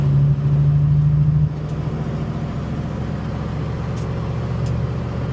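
Datsun 240Z driving, heard from inside as a steady low engine drone and road rumble, with a brief tonal whine at the start that gives way to an even hum.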